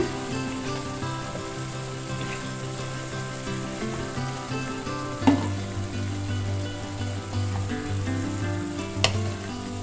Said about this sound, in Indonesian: Setelah kemirinya matang, kita masukkan daging sapinya.